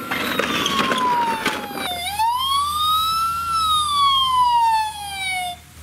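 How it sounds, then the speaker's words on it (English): An ambulance siren wails close by, a smooth rising and falling tone that sweeps down, then climbs and slowly descends again, loud over a faint engine rumble. "The ambulance is here."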